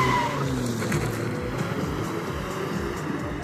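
A car speeds off with squealing tires as the engine revs hard, a loud continuous roar with skidding screech throughout, close by.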